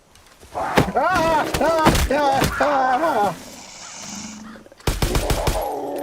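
Rapid bursts of gunfire from the video game Far Cry 5, loud and close, with sharp repeated shots across the clip and a renewed burst near the end, while voices talk over the shooting.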